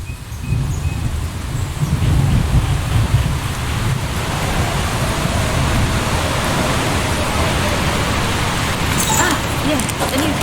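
Steady rain falling in the video game Eastshade, a dense continuous hiss with low rumble throughout, loudest in the opening seconds and steady afterward.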